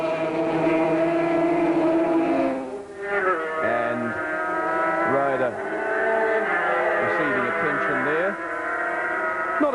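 Several 250cc two-stroke twin-cylinder Yamaha and Honda race bikes at Phillip Island in 1989 wail through gear changes, pitch dropping and climbing as they pass, loud and steady beneath a commentator talking.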